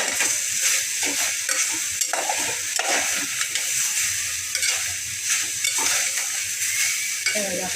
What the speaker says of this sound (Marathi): त्याला व्यवस्थित परतवून घ्यायचं आहे.